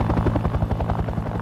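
A Vietnam War-era Huey helicopter in flight, its rotor blades chopping in a fast, even, loud beat close by with no voices.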